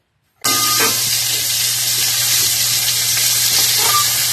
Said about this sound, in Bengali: পটল এবার ভাজা হবে